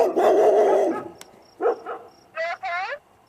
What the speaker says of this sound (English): I've successfully stood these dogs down.